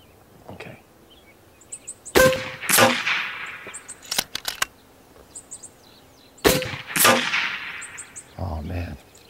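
An Evanix Tactical Sniper air rifle fires 180 grain Air Venturi slugs at a 50-yard target, two sharp, loud cracks a few seconds apart, each with a ringing tail, mixed with metallic clicks and clacks of handling and cocking.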